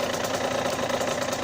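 A motorcycle engine idles just after starting, a short burst of close, even, pulsing mechanical rumble with no voices.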